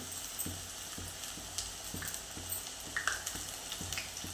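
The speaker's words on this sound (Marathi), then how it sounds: "त्याच्यामध्ये तूप घालून घेतलं आहे त्याच्यामध्ये आपण लसूण घालून घेऊया बारीक कट केलेलं" Chopped garlic and Kashmiri red chillies sizzle in hot ghee for a tadka, a steady faint crackle broken by regular soft knocks of stirring.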